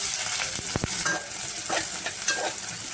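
Oil sizzling as crushed garlic and chopped onion are tempered in a pan for a soybean curry, a loud close crackle with a few sharp scraping stirs, no voices.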